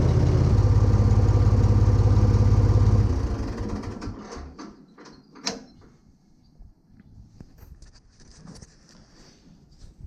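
A Renault car engine idles steadily after an oil change, a dense low hum for about three seconds before it shuts off, followed by faint clicks and ticking in a quieter space.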